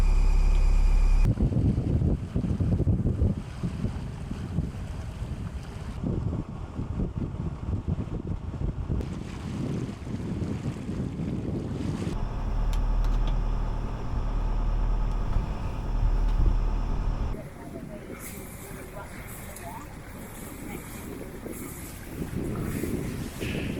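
Sailboat motoring under engine off Lombok and the Gili Islands with about 7-8 knots of wind forward of the beam, giving a steady rumble mixed with wind noise and water, heavier at first and quieter toward the end.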